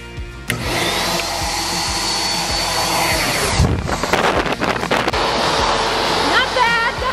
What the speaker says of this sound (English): Pet force dryer.